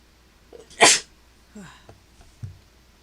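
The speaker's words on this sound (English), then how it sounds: "I gotta sneeze." A single sharp sneeze bursts out close by, followed by a few soft breaths and small rustling sounds.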